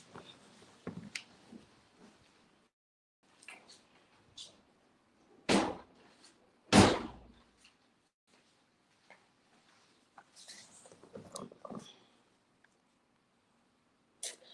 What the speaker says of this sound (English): I think I have to lock the door because the wind now is stopping me. Let me lock the door.